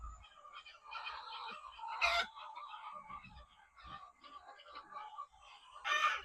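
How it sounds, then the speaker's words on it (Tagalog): Cage-free laying hens in a poultry house cluck and squawk noisily, with scattered calls near and far and two louder sharp squawks standing out. "Ang iingay ng mga manok namin ngayon, hindi ko alam kung bakit."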